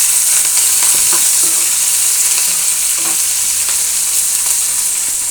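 Onions, green chillies and curry leaves with tempering spices frying in oil in a kadai, a steady close sizzle broken by scattered scraping stirs of a spoon, with no one talking.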